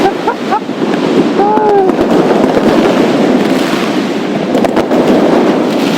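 Fireworks boom and crackle without pause from all directions on New Year's night at Lenin Square in Yakutsk in -40 °C cold. A brief whistle rises over the dense, loud rumble of distant and nearby bursts.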